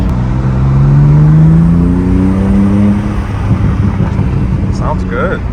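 BMW M4 G82 with an Eisenmann resonator-back exhaust revving up close, engine pitch rising in a loud sweep then falling back to a rumbling idle, with people talking over it.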